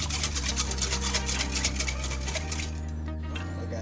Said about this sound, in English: Whisk for 2 minutes to combine all ingredients.